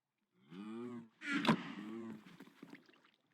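A video game cow on a survival farm gives two short, low moos back to back, heard fairly quietly with soft clicks and rustles trailing after.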